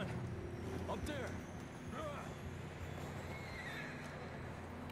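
A horse whinnies twice amid steady outdoor ambience in the video game Red Dead Redemption 2, with faint hoofbeats and a low background rumble underneath.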